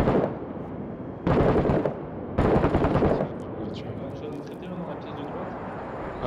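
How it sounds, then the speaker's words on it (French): Gunfire coming from outside in Six Days in Fallujah, two loud bursts of rapid automatic fire, each lasting about a second, followed by fainter scattered shots and rumble in the distance. "il y a des tirs qui viennent de l'extérieur à l'ouverture à gauche"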